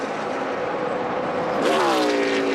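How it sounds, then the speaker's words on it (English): NASCAR race car engine at the 2011 GEICO 400, a steady droning roar that shifts in tone as the car passes down the straightaway with the clutch pushed in. "you hear he's pushing in that clutch down the straightaway. That engine's going quiet."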